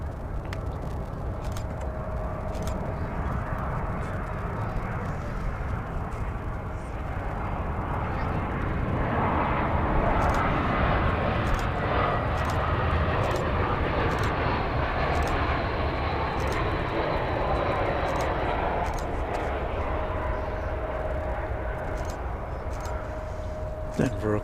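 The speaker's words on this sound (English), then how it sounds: "Our next arrival, United, flight 1350 from Denver" A United Airlines airliner arriving from Denver at DFW Airport produces a sustained jet roar that builds to a peak midway, then holds steady, with a faint tonal whine and occasional talk in the background.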